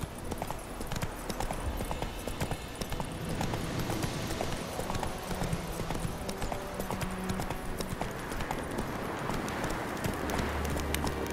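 Roach the horse gallops in The Witcher 3, hooves pounding in a fast, continuous clip-clop rhythm with loud game ambience around them.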